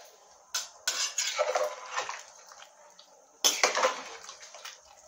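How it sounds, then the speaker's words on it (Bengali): Hot water is poured into a pot of mutton curry. Two short splashing, clattering bursts are heard close by, with quiet gaps between them and no talking. "গরম জল ঢেলে দেবো।"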